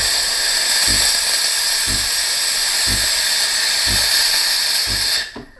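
Loud, steady hiss of steam jetting from the milk wand of a De'Longhi Dedica coffee machine into a container, with faint periodic thumps underneath, cutting off abruptly at the end.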